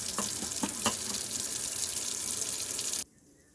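Tap water runs steadily into a cooking pot on the stove while making chicken and dumplings with vegetables, a continuous close hiss and splash that stops abruptly near the end.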